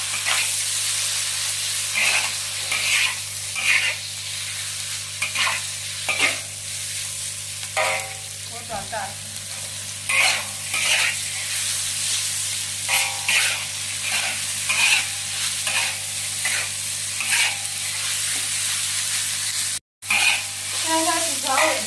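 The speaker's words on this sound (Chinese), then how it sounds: "后续翻炒。" Soybean sprouts being stir-fried in a wok, with a steady sizzle under repeated scraping and tossing strokes of the spatula throughout, close and without talk.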